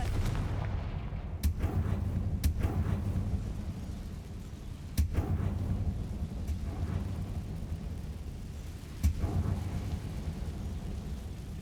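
Confringo blasting spells in Hogwarts Legacy go off as several sharp, booming explosions spaced seconds apart over a low rumbling background, with no talk.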